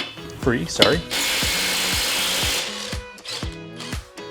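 A Ridgid cordless impact driver loosens tire lug nuts, firing a long rapid hammering burst and several shorter bursts, separated by brief pauses and clicks as the driver moves between nuts, close and loud.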